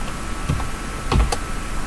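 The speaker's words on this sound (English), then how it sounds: "Sorry, I'm typing one-handed here for just a quick second." Quick one-handed typing on a computer keyboard, a few scattered key taps, the first isolated and then a short cluster, close and quiet over a low steady background hum.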